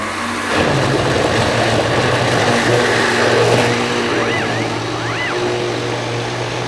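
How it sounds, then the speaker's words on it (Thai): Loud, continuous motor whir of a blender grinding paper for seed paper, a steady droning roar lasting several seconds. "ใส่เครื่องปั่นปิดฝานะครับ"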